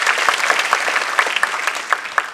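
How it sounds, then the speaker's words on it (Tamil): An audience at an inauguration event gives a round of applause, a steady wash of many hands clapping at a moderate distance with individual claps standing out, continuing throughout without speech. "அவருக்கு மீண்டும் ஒரு கைத்தட்டு."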